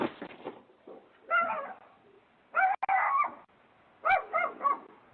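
Small Chihuahuas yapping and whining in a played clip, several short high-pitched barks and whimpers in uneven bursts, fairly close with some background noise.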